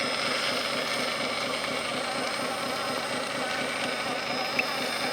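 A small RC tractor motor drones steadily at low throttle and an even pitch, a continuous buzzing hum with no pauses, fairly close and unchanging throughout.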